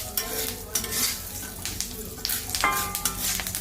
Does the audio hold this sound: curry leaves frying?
yes